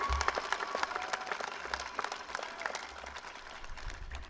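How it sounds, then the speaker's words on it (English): Graduation audience at a 2021 ceremony bursting into applause, a dense crowd of clapping hands sustained for several seconds, steady and moderately loud with faint scattered cheers. "Let's give ourselves a well-deserved round of applause"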